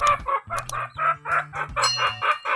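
Rooster, father of newly hatched chicks and a two-time winner, crowing loudly with a sustained call while nearby hens cluck in short repeated bursts, close and clear throughout.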